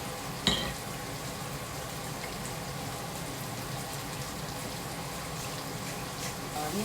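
Banana blossom (kesel mu) fries in hot oil, giving a steady, close crackling sizzle that runs without pause, with one brief clink near the start.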